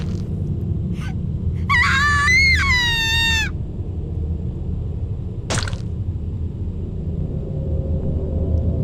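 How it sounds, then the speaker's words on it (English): A character in the horror video game Corpse Party screams in pain: a single strained, wavering cry of about two seconds, loud and close over a constant low rumbling ambience, followed by a short sharp noise. "Let me hear those primal screams."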